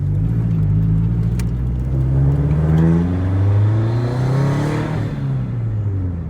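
A modified 2004 Subaru STI turbo engine revs hard and climbs through the gears, pitch rising and falling with each shift, loud and close.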